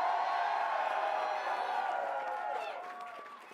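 An election night crowd roars and cheers for David Crisafulli's win in Queensland, a dense wash of voices and whoops that slowly fades.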